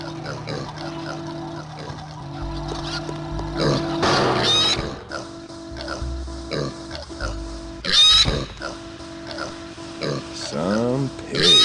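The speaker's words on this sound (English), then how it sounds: "Or maybe use a flying pig to get out." A pig oinks and squeals in the Warcraft Adventures video game, several short grunts and squeals spread among game music and character talk.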